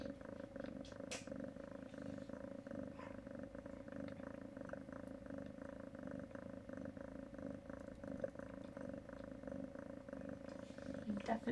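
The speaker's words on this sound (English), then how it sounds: "Listen to that purr." A rescue cat purring after giving birth to kittens: a low, steady, continuous rumble, faint and close, with a soft voice briefly heard toward the end.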